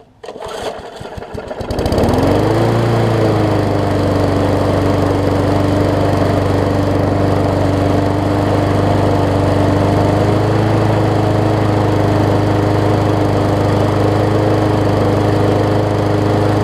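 A Murray 20-inch lawn mower engine, recently repaired after a stuck intake valve, cranks and catches, then runs loud and steady at an even pitch close by.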